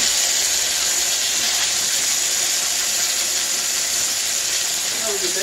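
Pork steak searing in a hot pan gives a loud, steady sizzle and hiss that fills the whole stretch close up, with no pauses or talk over it.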